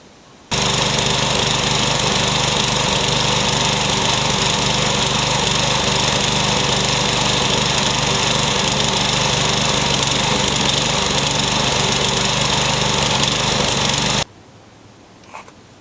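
A Craftsman lawn mower's engine runs loud and steady for about fourteen seconds, then cuts out abruptly into quiet.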